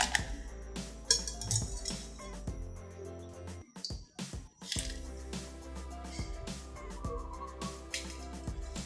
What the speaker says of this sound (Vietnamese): Bây giờ thì mình trộn đều lên, rồi vớt qua cái rổ, sau đó mình sẽ rửa lại khoảng 2 lần nước nữa.